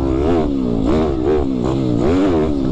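YCF Big-Y pit bike engine revving hard while riding, a loud, buzzing motorcycle roar that rises and falls in repeated throttle swells, close and continuous without talk.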